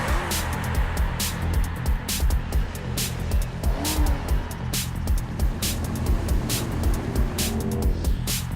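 Ferrari 360 Spider engine roaring at a racetrack, a loud continuous drone with rhythmic rising pulses and repeated sharp bursts throughout.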